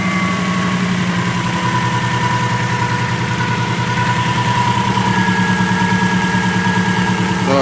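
A rebuilt Subaru STI V6/RS engine idles steadily and close by just after its first start, running on a Link ECU with no air filter. It gives a constant, even, throbbing hum with a faint high whine above it.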